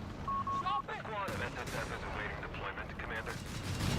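Gunfire and artillery in a Company of Heroes 3 2v2 tournament match, with Panzer Grenadiers and flak, heard as steady bursts and booming shots layered under continuous fast-paced commentary.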